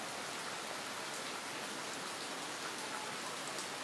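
Rain falling steadily around a house, a soft, even hiss of countless drops that continues without pause and without any voices.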